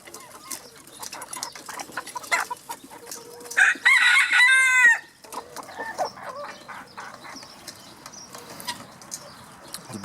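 A blue mottled rooster crows once, loud and close, in a chicken flock being joined by new birds, with soft clucking and background bird chatter before and after the crow.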